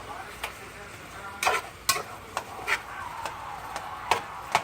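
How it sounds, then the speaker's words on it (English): Meat browning in a pan, with a steady sizzle under a series of sharp scraping and stirring knocks spaced irregularly, close and moderately loud. "I'm just browning it. And it's going to cook down in its juices"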